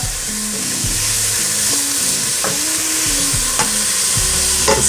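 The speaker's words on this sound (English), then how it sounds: "broccoli rabe that we chopped up here. Little chunks into the pan. Give that a nice little mix." Chopped broccoli rabe fries and sizzles in a pan with garlic, a steady loud hiss broken by scraping stir strokes and a few sharper clinks, with no talking.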